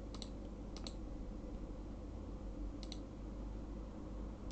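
Typing on a computer keyboard, quiet scattered keystrokes in small clusters of two or three clicks over a soft steady background hum.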